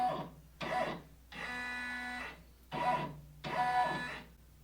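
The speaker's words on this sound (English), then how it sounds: "let's just do a little trace so we can see exactly where it's going to stitch out on the fabric" A Brother PR680W multineedle embroidery machine traces a design over fabric, giving alternating bursts of whirring motor hum and short pauses, quiet and close.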